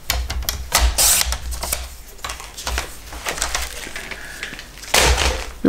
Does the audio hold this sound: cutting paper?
yes